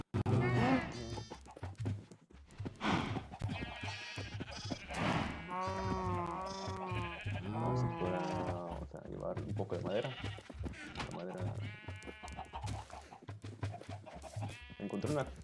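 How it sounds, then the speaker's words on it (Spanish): Sheep in Minecraft on PlayStation bleating repeatedly in a clear run of calls, mixed with a person talking over the game sounds. "Y ahí va a salir una oveja nueva."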